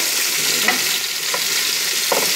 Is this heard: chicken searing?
yes